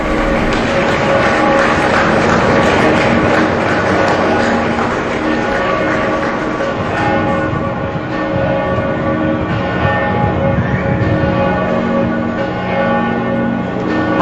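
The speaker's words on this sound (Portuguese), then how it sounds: "Aplausos, o badalar dos sinos e a despedida dos fiéis ao Papa Francisco" Church bells ring steadily and loudly throughout, layered over a dense wash of crowd applause and murmuring as the faithful bid farewell to Pope Francis at his funeral, continuous for the whole stretch.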